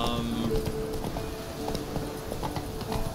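A horse gallops in the video game The Witcher 3, with rapid, rhythmic clip-clop hoofbeats close by and steady throughout over a background of game ambience.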